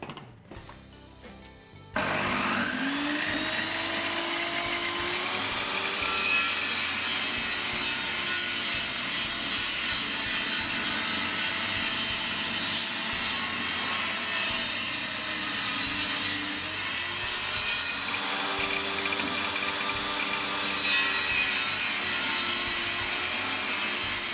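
A handsaw cuts through wooden boards for the sloped front and back panels of a Kenyan top-bar beehive, giving a steady, continuous rasping stroke that runs loud and close almost the whole time after a brief quiet start.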